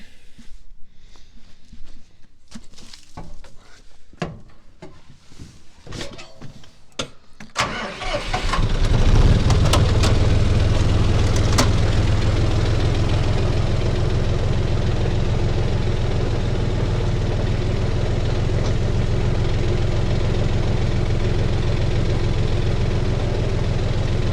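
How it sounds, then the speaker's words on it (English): A tractor engine idles loud and close after some scattered clunks and rattles at the start, settling into a steady, continuous rumble with no talk. "We might have to get back on the tractor and back it up some."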